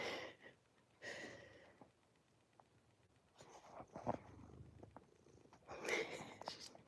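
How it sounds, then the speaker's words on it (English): A pet cat named Kevin purrs loudly and close by, a rough, rumbling purr that swells and fades in uneven bursts with audible breaths between them. "Her purr is like so loud, it like thunders."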